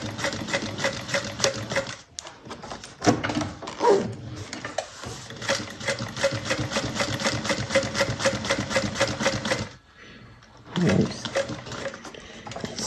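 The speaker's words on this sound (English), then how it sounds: "And we're sewing." A sewing machine runs a straight seam in steady, fast mechanical bursts, pausing briefly twice before starting up again, while a voice talks over it.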